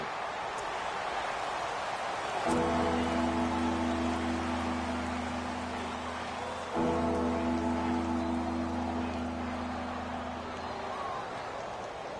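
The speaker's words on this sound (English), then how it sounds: "Well, Charles, the forecast called for rain throughout the entire game, and we got rain throughout the entire game" Steady rain hisses across a PS4 American football game as a soft, even wash, with a sustained low hum, likely from the game's soundtrack, rising twice and holding under it.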